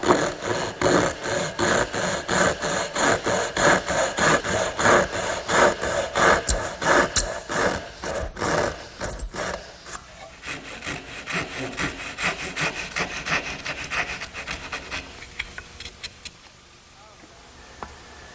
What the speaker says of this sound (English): I think there's no easier way than to use the regular dovetailing saw.